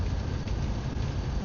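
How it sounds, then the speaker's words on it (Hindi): Rain falling during an early-morning truck drive, a steady dense hiss of drops over the low rumble of the moving truck, continuous and even throughout with no talking. "और ये बारिश का मौसम सुबह सुबह का बहुत शानदार हो रखा है।"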